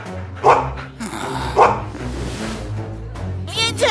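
A dog barks a few times in an indoor scene, two sharp loud barks standing out with a yip near the end, amid people talking.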